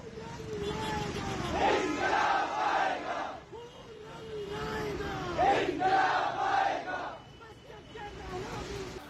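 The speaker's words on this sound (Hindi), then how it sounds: "वो नारे लगा रहे थे" Protesters holding placards and PoK flags chant slogans outside the Lahore Press Club, a crowd's rhythmic shouted calls rising in two loud waves with babble between them.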